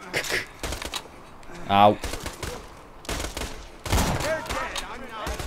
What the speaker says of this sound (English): Stay still so I can shoot you in the head.